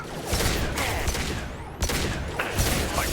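Gunfire from the video game Mass Effect 2 comes in rapid bursts of loud, close shots, with a brief gap near the middle before firing resumes.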